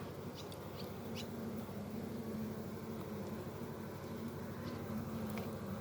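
Honeybees in a hive being readied for winter make a steady, close, continuous buzzing hum that stays even in level throughout, with no talking.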